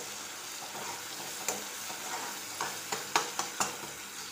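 Spiced ingredients stir-fry in a pan with a quiet, continuous sizzle, broken by several sharp scraping and clinking strokes of a spatula toward the end.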